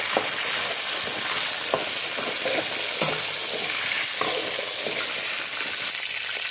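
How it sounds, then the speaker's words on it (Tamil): Eggplant sautés in hot oil, giving a close, steady sizzle broken by a few stirring knocks and scrapes against the pan, with no one speaking. "கத்திரிக்காய் இப்படி தாங்க வதங்கணும்"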